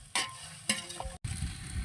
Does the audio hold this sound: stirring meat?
yes